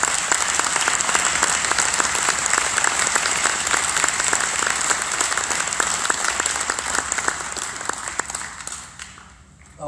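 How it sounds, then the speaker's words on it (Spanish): Church congregation applauding during a Spanish-language worship service, a dense, sustained round of clapping from many people that carries on steadily before fading out at the end. "den una ofrenda de palmas al Señor por ello"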